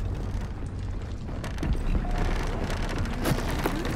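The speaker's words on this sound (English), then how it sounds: "And now it's raining." Rain patters steadily in the video game Gears of War 4, mixed with thuds and mechanical clunks and a faint low rumble, without any talking.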